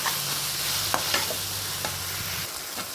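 Washed coriander leaves cooking down in a pan, a steady, close sizzle with a few soft stirring scrapes and a faint low hum beneath.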